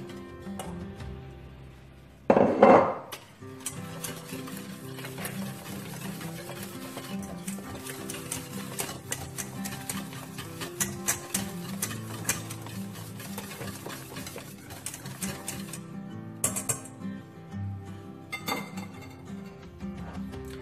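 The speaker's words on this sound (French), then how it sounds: "je mélange bien pour éviter que ça ne colle au fond" Lemon cream stirred in a pot as it nears the boil, a continuous close scraping of a utensil against the pot bottom with small clinks and one louder knock near the start, no voices.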